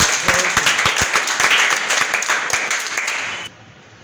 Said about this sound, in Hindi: वाह, जोरदार तालियां बजाइए आप लोग तो जी